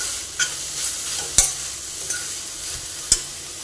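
Red amaranth leaves tossed with crushed peanut powder in a pan, a spatula scraping and stirring in a few distinct strokes over a soft steady sizzle, close and fairly quiet.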